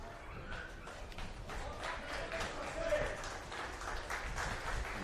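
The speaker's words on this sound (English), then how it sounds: "Tariq Mayer gets a round of applause from the Sydney United faithful here in the Bocker stand" Sydney United faithful clap from the Bocker stand at a football match against Western Sydney Wanderers, a steady wash of distant crowd applause and murmur filling the whole stretch at an even level.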